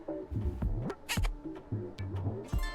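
A pet cat gives a string of short, close meows and chirps, several quick calls in under three seconds with brief breathy gaps between them.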